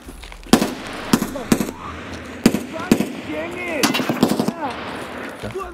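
Gunfire bursts crack out during a boss fight in Escape from Tarkov, with sharp single shots and short automatic volleys spaced irregularly across several seconds, some loud and close, and voices talking between them.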